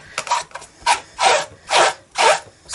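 A chamois cloth rubs rubber stamps clean of permanent archival ink in a series of about five scratchy, rasping strokes, close and fairly loud, each swipe lasting under half a second with short pauses between.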